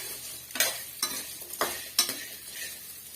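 Six or seven peeled garlic cloves sautéing in a pan for a fish curry, with four quick stirring scrapes over a soft background sizzle, close and fairly quiet, each stroke sharp and brief.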